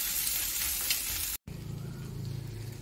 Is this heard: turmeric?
yes